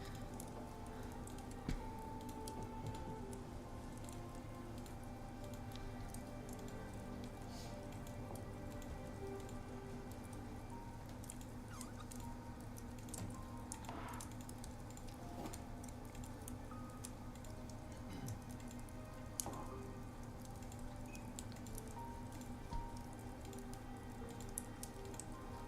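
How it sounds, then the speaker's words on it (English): Rain patters outside, a faint steady wash of soft drops and occasional ticks heard from indoors under a low constant hum, with no talking. "It is raining outside. I was wondering what I was hearing. Pitter pattering."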